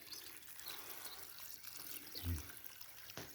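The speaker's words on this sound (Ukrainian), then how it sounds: "проливаємо водичкою" Water pours into a freshly dug planting hole in the garden soil before carrot seeds are sown, a faint trickling dribble with a brief low splash near the end, quiet and close.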